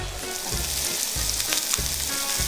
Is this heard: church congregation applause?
no